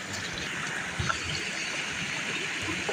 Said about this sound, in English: add in the water, which I'm going to use to make the mixture.